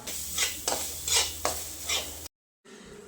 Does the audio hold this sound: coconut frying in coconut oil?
yes